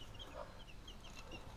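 Chickens clucking in a coop with several young roosters and hens, faint scattered soft clucks and chirps over a steady low background noise.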